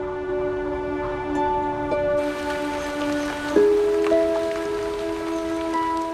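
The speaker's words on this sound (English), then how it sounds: "And from the cleanest air falls the purest rain." Steady rain patters down in Tasmania as a broad hiss, with a low droning hum of sustained tones running underneath throughout.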